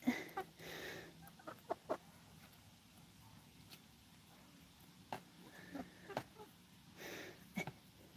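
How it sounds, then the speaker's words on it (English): Backyard chickens on an organic garden farm give soft, scattered clucks and brief calls, faint and intermittent against a quiet outdoor background. "Silly chickens."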